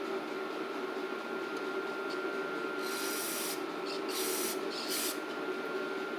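Several short hissing bursts of spray into the carburetor of a Craftsman M100 push mower, close by, over a steady mechanical hum, coming in quick uneven pulses.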